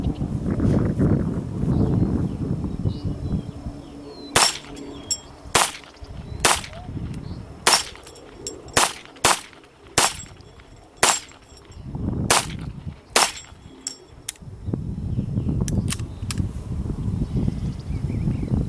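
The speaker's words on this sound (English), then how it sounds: "Let me put a few rounds in there, show you, be shooting it just a few more times." Colt Woodsman 6-inch .22 target pistol firing Winchester M22 rounds, about a dozen sharp cracks spaced unevenly through the middle, with faint background rumble before and after.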